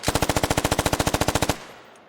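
An autorifle in the video game Squad fires from a standing position: one rapid, even burst of about twenty loud shots, followed by a brief fading tail.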